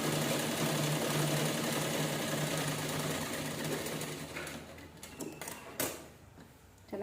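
A sewing machine stitches a cloth bag in a steady, fast mechanical whir that runs continuously for several seconds, then breaks into shorter bursts and pauses near the end, close and fairly loud with no talk.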